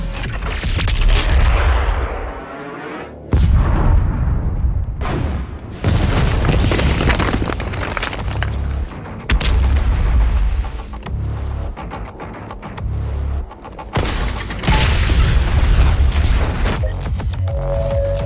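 A large cannon fires in a Doom Eternal cutscene: repeated heavy booms and blasts with rumbling low-end impacts over a dense, loud, continuous battle din lasting throughout.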